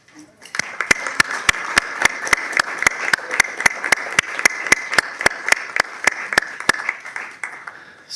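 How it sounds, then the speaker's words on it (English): Audience applause for the core team at a school board meeting and State of the Schools event, a crowd clapping steadily under a sharp, regular rhythmic clicking that repeats evenly through the middle of the stretch. "we're going to give you a round of applause"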